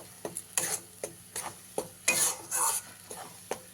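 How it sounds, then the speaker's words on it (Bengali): Thankuni leaf paste being stirred in a pan, with uneven scraping strokes and soft clinks of a utensil against the pan over a faint sizzle, close and quiet. "পাতা বাটাটা দিয়ে দিয়েছি এবারে খুব ভালো করে মিশিয়ে দেবো"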